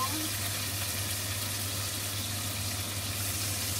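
Onion caramelizing in a frying pan for beef hamburgers gives a steady, even sizzle with a low hum underneath, constant and close for the whole stretch, with no voices.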